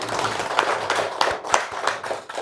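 Audience applause in a hall, a steady patter of many hands clapping together at moderate volume, with a few sharper claps standing out, continuing without pause.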